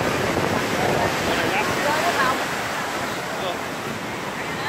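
Broadband roar of sea waves breaking on the beach at Kỳ Co near Quy Nhơn, steady and close, with wind buffeting the microphone throughout.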